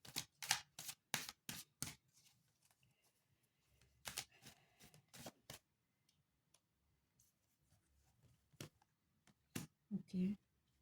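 Playing cards are shuffled and flicked in quick bursts of crisp, close riffling clicks, one cluster near the start and another midway, with scattered lighter taps between them in an otherwise quiet room.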